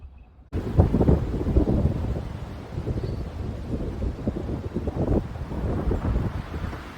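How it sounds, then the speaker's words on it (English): Heavy wind buffets the microphone in loud, rumbling gusts after a brief quiet start, with no voices. "it's very windy"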